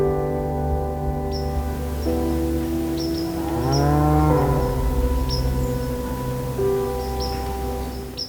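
Cattle low repeatedly at dusk on an Alberta property, long mooing calls rising and falling at middle distance over a quiet outdoor background, with a few faint rustles.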